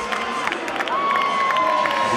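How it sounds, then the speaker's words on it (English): A crowd at a STIHL Timbersports lumberjack competition cheers and claps while an announcer's voice carries over them, with a steady tone running beneath the noise. "big round of applause for Cassidy Shear."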